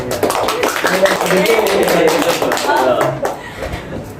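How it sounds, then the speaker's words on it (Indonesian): A group in a guidance counseling class claps hands together as an ice breaker, with sharp, fairly rhythmic claps layered over people talking. "ice breakingnya kita cuma tepuk tangan loh"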